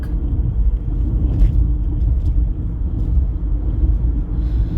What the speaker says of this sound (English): But I'm on the road and I'm driving.